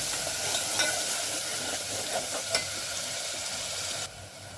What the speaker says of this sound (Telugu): పచ్చేసి వేగనివ్వాలి బాగా మసాలా అంతా పచ్చివాసన పోయేంత వరకు వేగనివ్వాలి